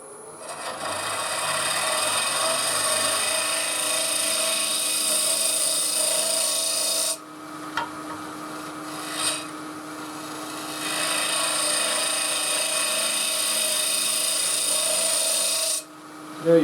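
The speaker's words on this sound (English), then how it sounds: "Simon Hope hollowing system" Wood urn hollowed on a lathe with a Simon Hope hollowing jig, giving a loud continuous scraping roar that cuts out briefly, then grinds on steadily again, no speech.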